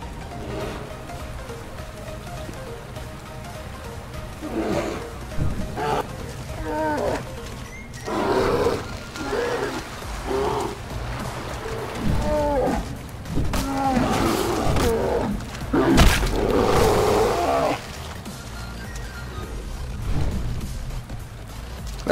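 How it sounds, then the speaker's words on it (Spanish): Bears roar and growl in a prehistoric wilderness in the video game Far Cry Primal, several loud rough bursts repeating over a steady ambient bed, some close and some further off, with no talking. "Escucho osos, así que debe de ser por aquí."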